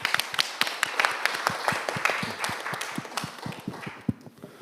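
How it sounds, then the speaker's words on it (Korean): Indoor church youth gathering greeting a pastor with applause, a dense burst of clapping from a crowd that carries on steadily before thinning out toward the end. "우리 목사님 박수로 한번 환영할까요?"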